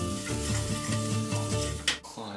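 Paprika, salt and cayenne fry in hot oil in a pan with a steady close sizzle, broken near the end by a brief clatter of stirring.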